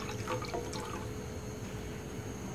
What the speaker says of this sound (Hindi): छानने के बाद आप दोबारा हम कढ़ाई में डालेंगे ताकि इसमें चमक आ जाए।